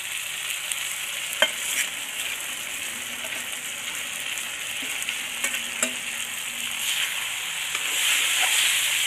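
Potato pieces fry in a pan with cumin and coriander spices, a steady close sizzle broken by repeated scraping clicks of a spoon stirring.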